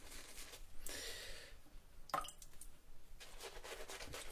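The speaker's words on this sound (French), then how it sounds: "si je mets un petit peu d'eau." A little water is added during a traditional wet shave, giving soft splashes, a sharp drip and a brief trickle among faint wet rustling, close and fairly quiet.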